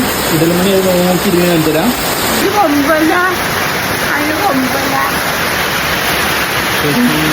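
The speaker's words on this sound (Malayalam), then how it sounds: "നല്ല മഴയാണ്" Heavy rain pours down outdoors as a dense, loud, steady hiss that fills the whole stretch, with people talking over it.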